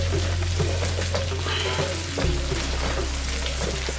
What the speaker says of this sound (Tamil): இப்போ இந்த வெங்காயமும் இந்த குடமிளகாயும் ஒரு 3/4 பதத்து வேகட்டும்.